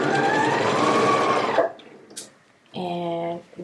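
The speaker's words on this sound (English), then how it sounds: "now I am ready to sew. And this is a slow sew." A sewing machine stitches a jacket slowly, running in a steady close burst, then stopping before a second short run; a voice is heard briefly during the pause.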